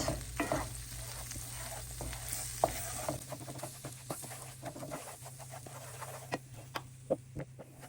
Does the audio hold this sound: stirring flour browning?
yes